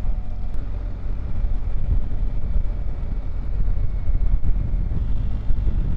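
A 2021 BMW R1250GS Adventure 40th Edition motorcycle underway, heard as a loud, steady roar of wind and road noise close to the microphone over a low engine drone. No one talks.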